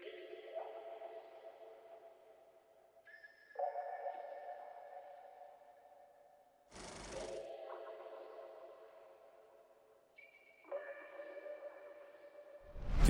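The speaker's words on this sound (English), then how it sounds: "The last thing I added for chords and stuff was this little mallet" Soft synthetic mallet tones in FL Studio play sustained repeating chords for an ambient R&B beat, changing every few seconds, with a brief noisy burst in between.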